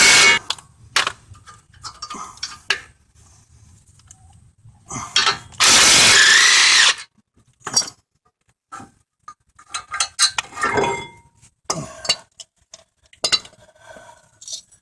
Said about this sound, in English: Now I'll take the caliper bracket off.